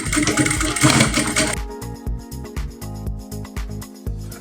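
A sewing machine runs in a continuous burst and then goes into a string of short, rhythmic stitching pulses with brief pauses between them. It is stitching the bust caging of a corset, close up, with no talk.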